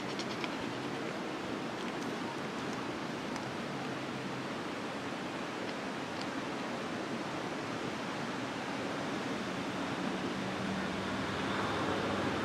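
A small creek flowing below the trail in Spearfish Canyon in the Black Hills: a steady, broadband rush of water runs unbroken throughout, fairly faint and with no voices.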